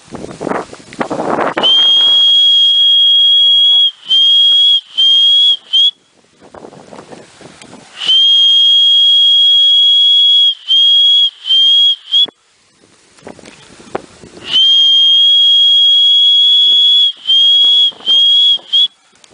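Loud, sustained high-pitched whistling to call racing pigeons repeats in three long bursts, each broken into a few short notes, over heavy wind noise.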